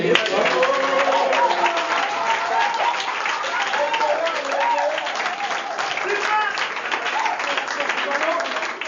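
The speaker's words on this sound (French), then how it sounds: "On peut quand même applaudir." Sustained audience applause at a live stage performance, a dense steady wash of clapping with voices mixed in over it the whole time.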